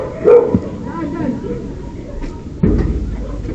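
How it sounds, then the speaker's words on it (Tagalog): Dogs bark and yip at a gate at night, fairly close and loud, with a few sharp bursts over steady background noise and people talking nearby. "yung tinatarayan po ng mga aso"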